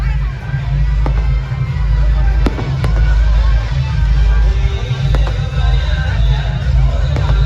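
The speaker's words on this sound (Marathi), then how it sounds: "देवीवरनं फटाक्यांचा आवाज येतो" Firecrackers bursting during a goddess palanquin procession at a night festival, loud continuous booming and crackling nearby with a few sharp individual bangs over a heavy low rumble and crowd murmur.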